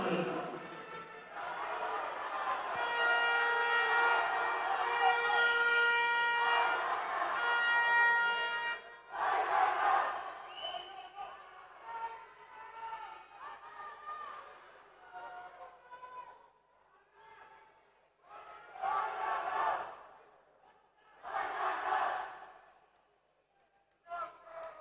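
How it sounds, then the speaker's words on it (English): A crowd at the women's 50 m butterfly final of the 2022 European Junior Swimming Championships in Otopeni roars loudly with shouts for about nine seconds, then softer bursts of cheering rise and fall under a commentator's voice. "Cheering for Lana."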